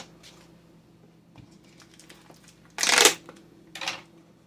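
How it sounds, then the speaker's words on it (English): Salt pours into a jar in two short granular bursts, first a loud rushing pour and then a briefer one, against a quiet room with small handling clicks. "So we're going to pull out a jar and get this salt in there."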